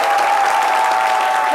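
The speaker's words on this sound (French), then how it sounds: "merci d'applaudir encore une fois Dr Philo" A TV studio audience gives a loud, sustained round of applause, a dense, even roar of clapping with a steady tone running underneath.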